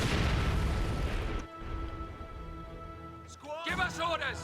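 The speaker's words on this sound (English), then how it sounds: "he's going to try to shoot back with his own mortar" A mortar firing in Company of Heroes 2, a dense explosive boom up front that fades into a long rumbling decay, followed by a voice talking.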